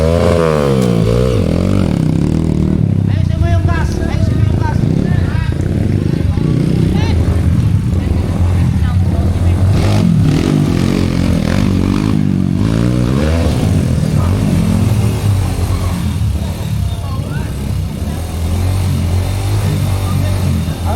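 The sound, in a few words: enduro motorcycle engine in time trial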